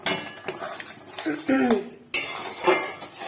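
Tamarind pulp being stirred into coriander chutney in a pan, with metal utensil clinks and scrapes against the pan, a short rattle midway, close and fairly loud.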